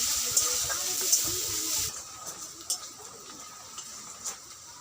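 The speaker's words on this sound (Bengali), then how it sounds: "পেঁয়াজটাকে ভালো করে লাল করে ভেজে নেব আমি।" Chopped onions frying in a pan for an egg and potato curry: a loud, steady sizzling hiss for the first couple of seconds, then quieter crackles and occasional spatters.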